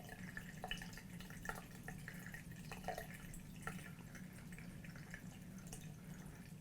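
Water draining from the tank of a Westinghouse electric water heater, a faint, steady trickle with irregular drips over a low hum.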